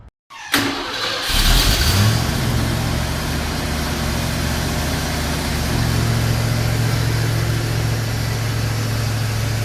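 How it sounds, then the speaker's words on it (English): A 1989 Ford F-150 V8 fitted with new headers and a custom exhaust cranks over and fires, then settles into a steady, loud, rumbling idle that holds through the rest of the stretch. "Now all I have to do is put the keepers on the headers, those header bolts, and start it up, make sure there's no leaks."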